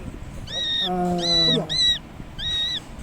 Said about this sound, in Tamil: முட்டையிலேருந்து வெளிவந்த குஞ்சு மாதிரியே இருக்குது. ஆனால் பசியில் ஒரே சத்தம் கத்திக்கிட்டே இருக்குது